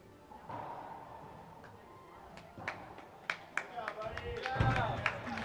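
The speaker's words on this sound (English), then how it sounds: "Crowd giving Emilio a round of applause" Crowd at a tennis match applauding the towel boy, a light scattering of claps that builds toward the end, with faint talk and thumps in the background.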